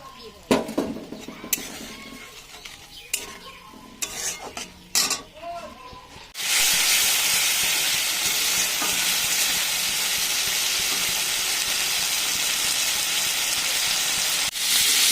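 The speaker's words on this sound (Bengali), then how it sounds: "এবার দিচ্ছি মটরশুঁটি, আর দিয়ে দিচ্ছি ভেজে রাখা আলু।" Peas and previously fried potatoes tipped into a pan and stirred, first clattering utensil knocks and scrapes, then a sudden loud steady sizzle of frying that continues close and unbroken.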